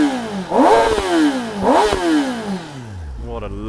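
A 2024 Kawasaki Ninja ZX-10R engine revs sharply twice, each rev climbing to a high scream and falling back, then settling toward idle, close and loud with the bike stationary.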